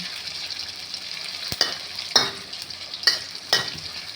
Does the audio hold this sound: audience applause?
no